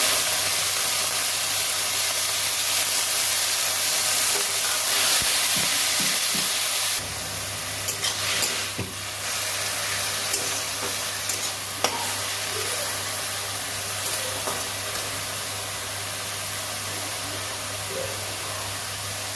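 Loud hiss and sizzle of garlic frying in a pan that shifts abruptly partway through as drumstick leaves are added, followed by quieter crackling and occasional clinks of stirring.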